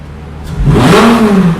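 A Lamborghini Gallardo's sport exhaust bursts into a loud rev, the engine climbing quickly to a throaty roar and holding there before easing off slightly.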